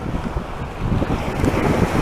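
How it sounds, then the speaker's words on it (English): Loud ocean waves and gusting wind buffet the microphone, a dense, roaring rush of surf and wind noise, close and steady with no voices. "It's kind of loud with the waves and everything, the wind."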